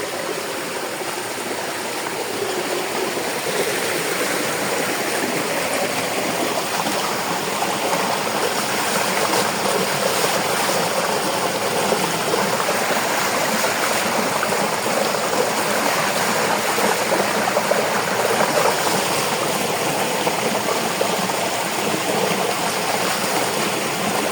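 Water gushes steadily from a tubewell in a Punjab village field, a loud, continuous rushing flow heard up close for the whole stretch with no talking.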